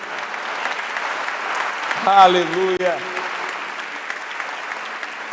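A church congregation applauds during worship, a steady mass of clapping throughout while a voice briefly calls out over it.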